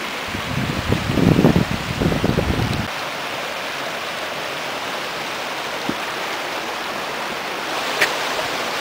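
A mountain stream flows beneath a footbridge at Jacob's Ladder on a hike in the Peaks, a steady even rush of water close by, briefly masked near the start by heavy wind or handling rumble.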